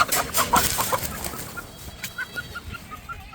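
A chicken clucking in rapid, agitated bursts while being caught and handled, close and fairly loud, with no talk over it.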